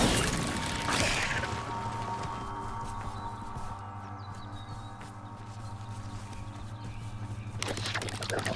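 Incendio fire spell cast in the video game Hogwarts Legacy: two sharp whooshing bursts, one near the start and one near the end, over steady tonal game music.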